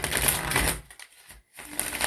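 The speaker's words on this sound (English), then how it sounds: "Shuffle one more time, then we'll cut the deck." A deck of tarot cards is shuffled up close, with a dense papery riffling burst, a brief pause and then a second burst of card-flicking.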